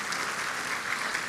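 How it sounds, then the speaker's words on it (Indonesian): A church congregation at a worship service breaks into sustained, dense applause, a broad even wash of clapping from many hands that fills the short span without pause. "Beri tepuk tangan yang meriah buat Tuhan."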